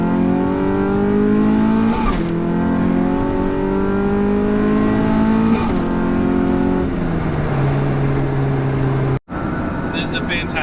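A 1993 Honda Civic hatchback making about 300 horsepower accelerates hard, its engine revving up through several gears with distinct shifts. A sharp break near the end is followed by the engine resuming.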